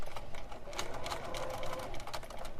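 A sewing machine stitches a spiral on a small Halloween eyeball barrette, a fast steady whirring hum with rapid needle ticks, close and continuous without talk.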